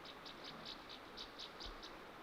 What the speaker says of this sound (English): That bird's making a lot of noise though.